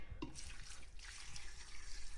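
Water runs into a pot of bones for bone broth, a steady faint splashing flow lasting the whole stretch with no talking.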